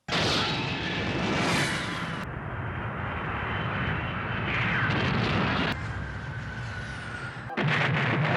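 A flight-demonstration team's planes roar overhead and crash in an animated film: loud, continuous engine rumble with sudden cuts and bursts, including a sharp impact near the end, no talk.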